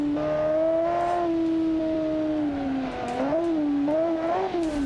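A 1300-horsepower car engine in BeamNG.drive holds a steady high drone, its pitch sagging and then climbing again as the revs shift.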